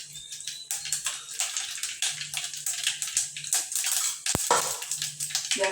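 Mustard seeds and cumin splutter and pop in hot oil in a home kitchen, with a steady crackling sizzle of many small bursts close by.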